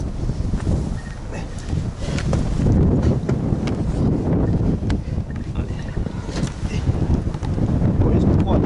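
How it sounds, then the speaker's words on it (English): Wind blowing through a WW2 RAF radar communication bunker, a steady loud rumbling roar of gusts buffeting the microphone throughout, with some voices faintly present. "you see it's wind blowing through"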